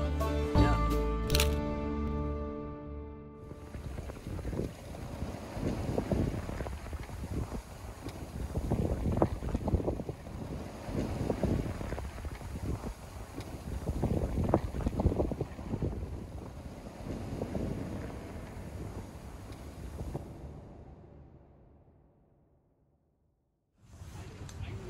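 A sailboat under way on its maiden voyage, with a steady rush of wind and water that swells and eases for about twenty seconds, then fades to near silence.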